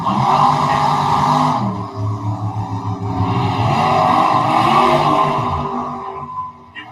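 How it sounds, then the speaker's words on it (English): Race cars revving their throttles at a drag strip during a Super Stock and Super Comp event, loud sustained engine roar with shifting revs that surge and fall repeatedly, close by and unbroken for several seconds before tapering off. "Different sets of throttle sounds."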